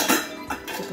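Steel utensils, small and large, clink against each other and rattle as they are set into a drying rack, a short close burst of metallic clatter with no talk.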